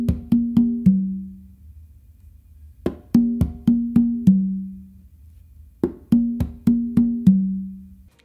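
Beat exercise played on three congas: clusters of sharp hand slaps and ringing open tones in a repeating pattern, separated by short pauses, close and clean with no talking.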